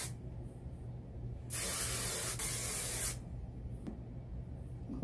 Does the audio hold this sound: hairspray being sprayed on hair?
yes